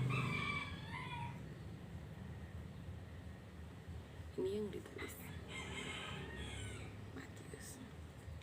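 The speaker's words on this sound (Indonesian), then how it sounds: "sebelum ayam berkokok." Rooster crowing in a drawn-out call near the start and again partway through, moderately distant, with someone talking over a quiet background.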